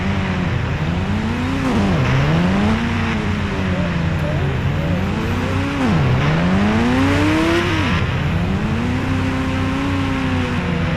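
A petrol bike's engine revs in the Indian Bike Driving 3D video game, climbing in pitch and dropping sharply like gear changes, over three loud repeated cycles with no pauses.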